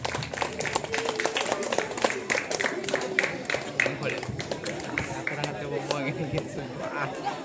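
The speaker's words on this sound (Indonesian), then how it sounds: "Beri tepuk tangan sekali lagi." An audience at a school student council candidate debate claps in scattered bursts while people chatter and talk over the applause.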